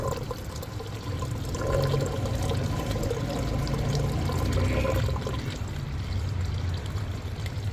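Water runs steadily through a homemade NFT hydroponic system driven by a small motor pump, a constant close rushing and trickling stream that holds its level throughout with no speech.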